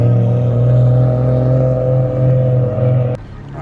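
Car engine with a newly fitted turbo held at a steady high idle, a loud, even drone with strong low harmonics for about three seconds, then cut off abruptly, leaving a quieter rumble.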